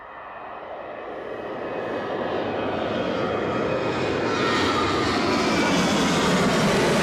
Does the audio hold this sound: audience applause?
no